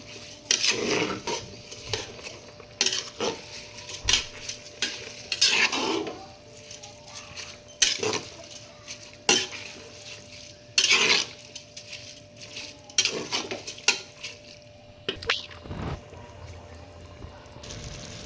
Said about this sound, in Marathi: आता या स्टेजला आपण हे भिजत ठेवलेला तांदूळ यामध्ये टाकून घ्यायचं आहे व्यवस्थित मिक्स करून घेऊया